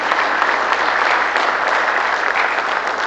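A church congregation applauds together in a sustained burst of clapping that fills the room evenly for a few seconds, with no talking over it.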